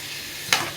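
Vegetables frying in a pan are stirred once, a brief scraping swish rising over the steady sizzle of hot oil, close and clear.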